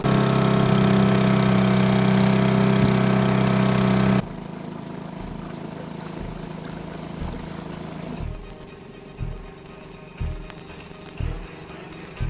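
A dinghy's outboard motor runs loudly at first with a steady droning hum, then drops to a quieter idle broken by rhythmic low thumps and faint knocking, with no voices.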